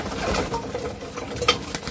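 A flock of pigeons that has just flown in feeds together from one spread of food, with soft cooing, pecking patter and scattered rustling close up and no talk.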